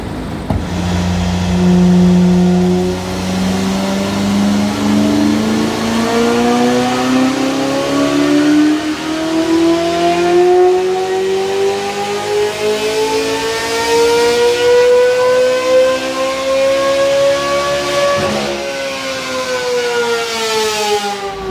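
Corvette C8 Z06 engine on a dyno, revving in one long sweeping pull that climbs steadily in pitch for about eighteen seconds before cutting off, loud and close with no talking.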